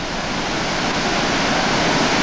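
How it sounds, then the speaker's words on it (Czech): A raging river in Husedalen valley, Hardanger, Norway, roars as a dense, steady rush of whitewater, loud and close with no pauses and no voices. "Takhle dravá je tato řeka."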